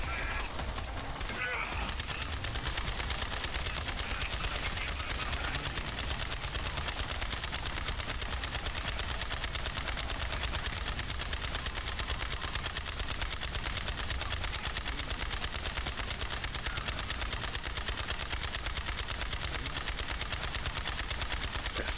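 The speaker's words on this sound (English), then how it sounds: "I'm gonna get on my bike here and just shoot these guys." Guns fire continuously in Borderlands 3 as a player rides a bike, a dense, unbroken stream of shots and engine noise held at a steady loud level, with a voice talking over it.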